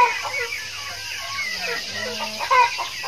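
Chickens cluck and murmur steadily inside a coop where droppings fall straight to the ground, with a constant background hum and occasional louder squawks.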